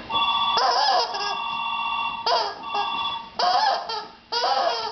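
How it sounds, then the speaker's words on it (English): A telephone rings at home in repeated bright electronic bursts, four rings spaced about a second apart, loud and close with no talk over them. "Do you hear the telephone?"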